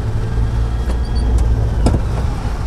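A car accelerating in third gear during a driving lesson on a road test course, steady low engine drone rising under road noise, close and loud throughout with no talk.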